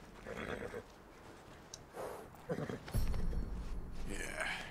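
Horse neighing in the video game Red Dead Redemption 2, a couple of short whinnies breaking out between bursts of someone talking, with a louder snort or stamp near the end over steady game ambience.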